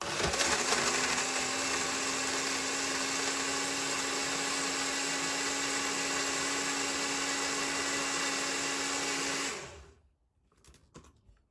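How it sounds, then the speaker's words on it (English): An IMURZ mini blender grinds almonds with a loud, steady high-pitched whir that runs continuously for about nine and a half seconds, then cuts off abruptly, leaving a few faint clicks. "So let's go ahead and give it a blend."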